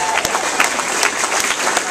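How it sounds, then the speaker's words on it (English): Applause at a political rally for US Representative Kendrick Meek, loud sustained clapping from a crowd, close and dense, with a voice faintly underneath. "we need to give them a round of applause"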